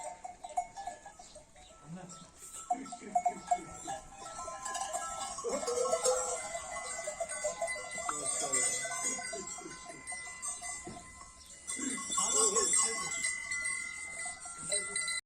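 Faint clanking bells from grazing sheep with occasional bleats, heard at a distance while people talk quietly nearby.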